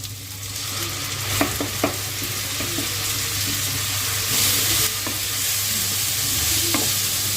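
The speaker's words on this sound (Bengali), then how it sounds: "পেঁয়াজ, আদা রসুন, টমেটো, কাঁচা লঙ্কা খুব ভালোভাবে ভাজা হয়ে গেছে।" Onion, ginger garlic paste, tomato and green chili fry in a pan for capsicum masala, a dense continuous sizzle with a few sharp spatula scrapes and stirring knocks, steady and close, without speech.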